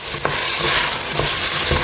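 Peas and potato pulao is stirred in a pan over a high flame, with a steady sizzle running throughout and a few soft scraping strokes of the spoon against the pan.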